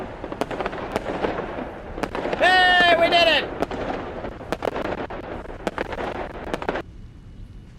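Fireworks go off in the factory-building video game Satisfactory: a whistling, rising shriek followed by a string of crackling pops and bangs, loud and close, with a voice speaking over the display.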